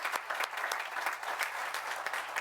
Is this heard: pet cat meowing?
no